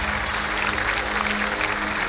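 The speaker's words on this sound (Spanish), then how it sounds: "Hasta un fuerte aplauso para ellos, por favor." Applause from a studio audience at a televised talent-contest show, a steady crackle of clapping that swells in the middle and fades slightly at the end, with no clear voices on top.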